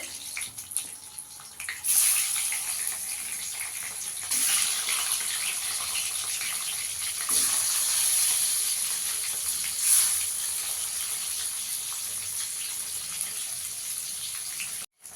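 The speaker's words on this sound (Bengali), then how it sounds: "ডিমগুলো আমি একটু চিড়ে চিড়ে নিয়েছি, ডিমটা ভেজে নেবো আগে" Eggs frying in a pan with salt and turmeric, a continuous hissing sizzle with several louder surges as more egg hits the hot oil, steady and close.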